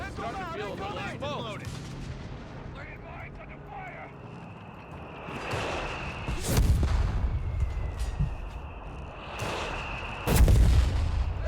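Mortar fire in the video game Company of Heroes 3, with two heavy booming blasts that rise above background battle noise, while someone speaks and game voices are heard earlier.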